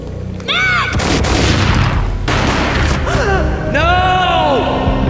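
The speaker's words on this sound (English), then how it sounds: "A gunshot boomed and she fell down in slow motion." A loud burst of gunfire cracks out in the 2001 PC game Max Payne amid a dense, chaotic mix of shouts and effects, with sustained noisy action throughout and tonal whooshes layered on top.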